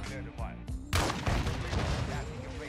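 Burst of gunfire in a shooter video game: a sudden loud volley of overlapping shots erupts after a quieter stretch and keeps crackling densely to the end, with a voice talking faintly before it.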